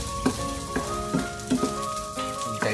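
Egg frying in oil alongside Cebu chorizo in a pan during backyard cooking, a steady sizzle with several sharp crackles and spatters spaced through the sound.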